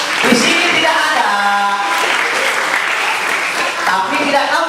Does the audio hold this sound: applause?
yes